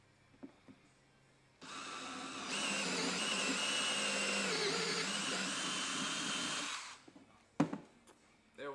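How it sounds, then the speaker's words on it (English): A power drill bores holes through a plate for a DIY camping power supply, a steady loud whine lasting about five seconds after a brief start, then stopping, with a few faint knocks before and after. "We got all the holes drilled."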